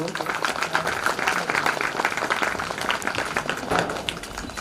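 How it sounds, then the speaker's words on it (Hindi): Audience clapping at a Sadguru Kabir satsang gathering, a dense, continuous patter of many hands at moderate level from a sizable crowd, lasting throughout. "आप ताली बजाइए सभी लोग।"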